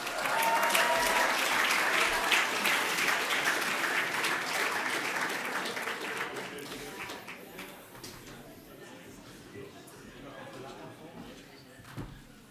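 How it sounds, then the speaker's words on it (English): Audience applause at the SBLTV STWAA 2025 awards ceremony: a loud, dense round of clapping that gradually thins and fades into a quieter room, with a few scattered claps near the end. "Let's have a round of applause"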